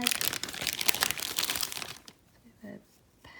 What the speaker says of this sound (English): On the top we've got a little plastic bag.